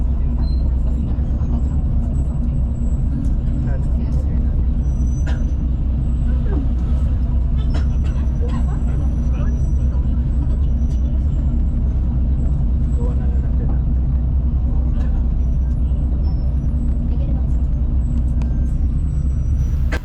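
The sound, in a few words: MyBus city bus moving slowly in Cebu traffic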